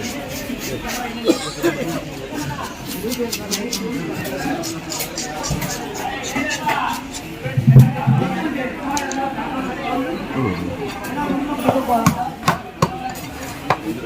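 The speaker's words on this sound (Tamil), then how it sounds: "எல்லாம் ஏரி வவால் தான் கட் பண்ணுறாங்க" Lake vavval fish being cut at a busy Saidapet fish market, with scattered chopping knocks amid crowd chatter and nearby talk.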